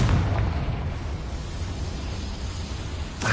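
A Confringo spell explodes in Hogwarts Legacy inside a small mine, giving a sustained, loud, low rumbling blast that fades slightly, then a sharp new crack right at the end.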